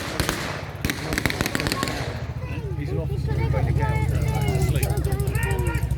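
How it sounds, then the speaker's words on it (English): A .50 caliber machine gun fires at a World War II battle reenactment, a rapid clattering burst of shots that gives way to a steady low mechanical rumble with scattered crackling. "got a 50 cal there being fired on one of the jigs"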